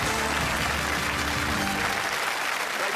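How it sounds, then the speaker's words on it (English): A studio audience at a British TV game show claps steadily and loudly throughout, a dense wash of applause that thins slightly toward the end. "Give them a round of applause, Jimbo and Sue Whittaker."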